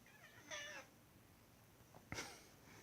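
A cat meows twice nearby, a drawn-out wavering meow followed by a shorter sharper one, against a quiet room background.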